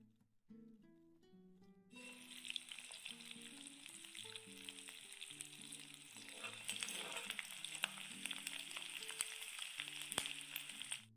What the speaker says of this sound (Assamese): এয়া দাইলখিনি গৰম হৈ আছে, তেল দিছে। নহৰু দিছোঁ দেই। এয়া পিঁয়াজ অকণমান দি দিছোঁ না মাছত।